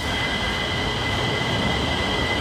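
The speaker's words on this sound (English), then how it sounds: "Next train coming." A train rolls through with a steady, loud rumble and a high metallic whine from the wheels, filling the whole stretch without pause.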